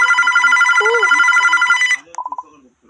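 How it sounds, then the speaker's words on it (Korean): A telephone rings loudly and continuously with a rapid trilling bell for about two seconds, a voice briefly speaking underneath, then stops, leaving a few shorter electronic tones. "전화가 온다"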